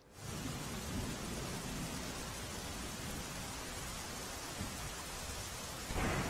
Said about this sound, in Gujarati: સુરેન્દ્રનગરમાં ધોધમાર વરસાદથી અનેક રસ્તા ધોવાયા છે